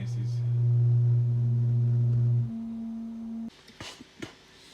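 A Hexaphon DIY analog toy synthesizer holds a strong, pure electronic tone that drops to a softer, higher note while being tuned, then gives way to a few faint clicks and soft handling noises.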